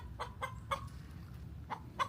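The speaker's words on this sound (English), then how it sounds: "Mr. Chicken. You're awfully noisy" A noisy chicken clucking close by in a series of about five short, sharp clucks, with no talking over it.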